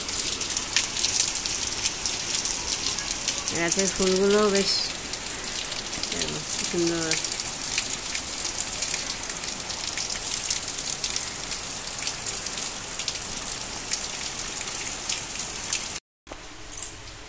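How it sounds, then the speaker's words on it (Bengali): Heavy rain pours down in a dense, continuous roar that never lets up, with a voice speaking briefly over it partway through. "খুব জোরে বৃষ্টি পড়ছে"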